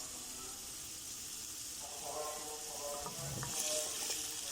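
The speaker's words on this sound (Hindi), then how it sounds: "हल्का सा फ्राई कर लेंगे।" Two small potatoes lightly half-frying in a pan for a Spanish omelette, giving a steady close sizzle with a brief rise of stirring clatter partway through.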